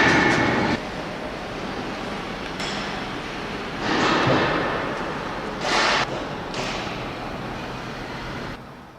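A train reverses into a workshop near Brest station to have its bogies changed to 1.52 m Russian gauge, making a rumbling roll with several heavier thumps and surges rising and fading.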